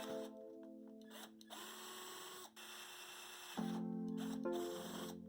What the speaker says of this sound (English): I lined up and drilled holes in the plastic in order to pass them into the fuse box.